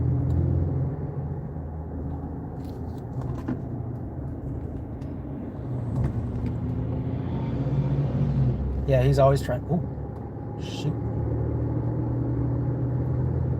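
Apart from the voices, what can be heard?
road traffic, cars passing in Michigan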